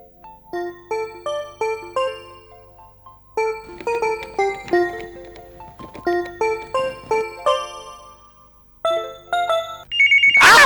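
A telephone ringing with a loud, melodic electronic ringtone, repeating its bright tone pattern over and over with a brief pause before it resumes, with no talking over it.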